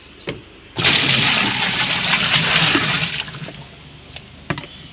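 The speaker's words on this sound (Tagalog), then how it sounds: "Lagyan natin ng tubig." Water gushes steadily into the tub of a Camel 6.2 washing machine for a few seconds, loud and close, then cuts off, leaving a few faint knocks and clatters.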